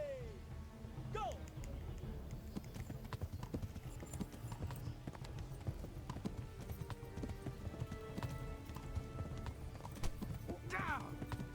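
Horse hooves clattering in a steady fast rhythm during a medieval horse race in the video game Kingdom Come, with horse whinnies near the start and end and continuous rumbling underneath.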